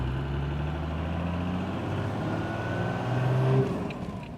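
Toyota LandCruiser fitted with an Outback 3-inch exhaust, its engine rumbling close and loud then revving up with rising tone before easing off, with no talk.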